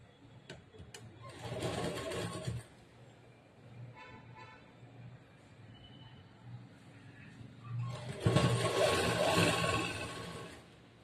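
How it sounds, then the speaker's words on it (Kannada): A sewing machine stitches a petticoat in two bursts of rapid, whirring mechanical running, separated by quieter handling and faint clicks, close and fairly loud, with no voices. "ಇವಾಗ ಇದನ್ನ ಸ್ಟಿಚ್ ಮಾಡ್ತೀನಿ"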